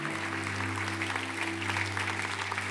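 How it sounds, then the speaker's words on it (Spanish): Church congregation applauding in praise to the Lord at the close of a service, a steady sustained wash of clapping with a low droning hum underneath, no voices over it. "Dale un aplauso, iglesia,"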